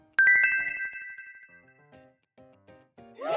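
A bright telephone ringtone opens with a sharp chime, followed by a short melodic jingle of plucked tones, then another rising flourish at the end, clear and close with no talk.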